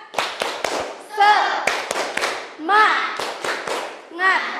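A school class performs the 'tepuk semangat' clapping chant, with sharp patterned claps in bursts alternating with children's voices chanting together, close and lively.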